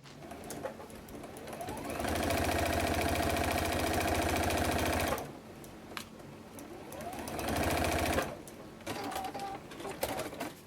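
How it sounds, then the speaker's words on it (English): Sewing machine stitching rows of quilt block strips together for a Jacob's ladder block, running in two steady bursts of rapid, even mechanical whirring with a short pause between and quieter handling sounds around them. "And then we're going to sew these lines together."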